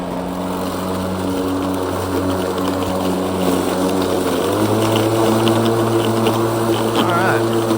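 A Wild Badger 40V battery lawn mower cuts through thick, overgrown grass in a yard. Its steady motor drone is close and loud, and it shifts to a higher pitch midway as it bites into the dense growth.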